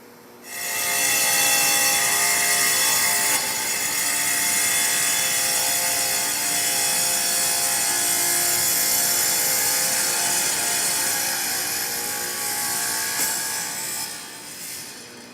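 A CORTAG Zapp 1250 Titan tile cutter makes a straight cut through floor tile, a loud, sustained grinding and scraping that holds steady for over ten seconds before easing off at the end.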